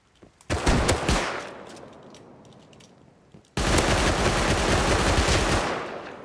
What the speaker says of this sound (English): I was shooting from the hip.